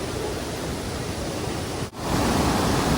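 A waterfall roars with a steady, dense rush of water, loud and close, briefly dipping before surging back even fuller.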